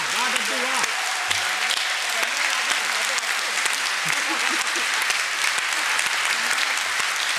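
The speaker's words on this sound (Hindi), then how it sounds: "तो हो गई तालियां" A crowd at a Hindi poetry recital (kavi sammelan) breaks into loud, sustained applause, a thick continuous patter of many hands, while a few voices call out faintly underneath throughout.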